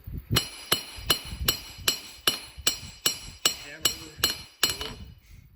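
Steady, evenly spaced metallic hammer blows on the edge of a miniature sword blade ring out about twice a second, each a sharp clanging strike with a bright ringing tail, close and loud.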